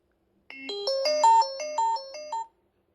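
A short, bright electronic melody plays through the small bottom speaker of a Sony Xperia XA Ultra phone: about a dozen clear, tinny notes stepping up and down for two seconds, then stopping abruptly, with silence around it.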